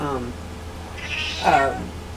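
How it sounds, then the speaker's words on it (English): A house cat meows indoors, giving a couple of rising and falling cries midway through, with a faint voice and room noise around them. "My cat is like having issues and out."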